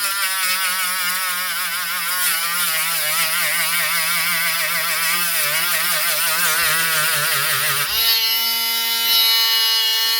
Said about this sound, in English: What I'm going to do is just file them down.